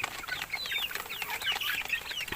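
Rhode Island chickens, free-range layers, clucking and chirping in a steady, busy chatter of several birds at moderate distance, with no voices.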